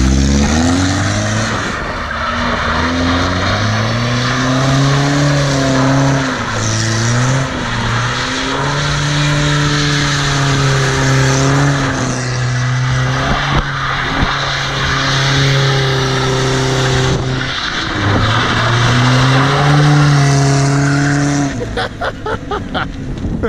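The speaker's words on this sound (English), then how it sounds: "Jake's gonna do a donut slide. First gear." An automatic Volvo of about 90 whp with a welded differential does a donut slide in first gear, engine droning loudly at sustained revs while tires skid, with brief dips in pitch and a sputter near the end, and no voices.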